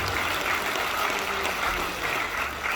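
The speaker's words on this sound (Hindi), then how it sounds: "अरे ताली तो बजा दो।" A devotional gathering's audience claps together after a spiritual speaker prompts them, a brief, dense wash of clapping that stays steady and fairly loud throughout.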